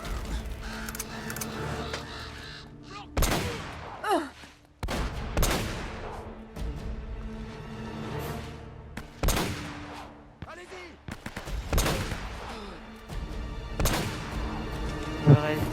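Gunfire in the game Uncharted: Drake's Fortune: repeated loud bursts and single shots crack through the scene at irregular intervals, with echoing tails and background game noise, as a voice talks between them.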